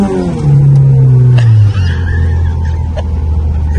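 A turbocharged Honda Civic SiR in first gear: a loud, close engine note sweeps downward as the throttle lifts, with brief airy bursts of blow-off valve release over a steady low drone.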